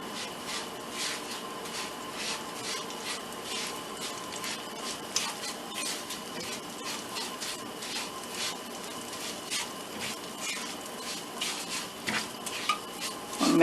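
Butter and sugar are stirred in a pan for tarte tatin, a spoon scraping steadily and quickly against the metal over a low background hiss, close by and continuous with no talk.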